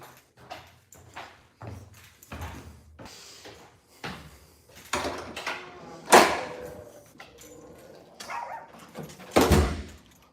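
A dog barks in a series of sharp, irregular barks mixed with knocks and thumps nearby. Two of the barks are especially loud and close, and the dog is heard alone without talk.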